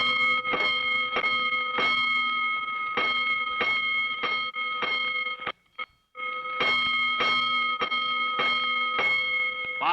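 A loud electronic fire alarm sounds in rapid repeated bursts with a steady harmonic tone, cutting out briefly midway before resuming just as strongly.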